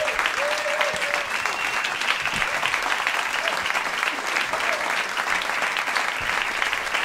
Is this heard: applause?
yes